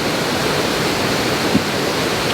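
A waterfall in flood in Sunnyhurst Woods, Darwen, pours in a constant, full-bodied rush. The roar is close and even throughout with no other sounds standing out.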